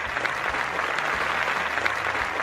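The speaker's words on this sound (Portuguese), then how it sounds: "Uma salva de palmas ao Pânico" A round of applause from a studio audience honoring a Brazilian TV and radio comedy cast, dense, steady clapping that stays even across the short stretch.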